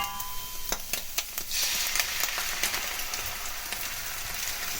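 Egg, stir-fried vegetables and shrimp sizzle in a hot pan, with a few sharp clicks and scrapes at first, then a loud, steady hiss of frying.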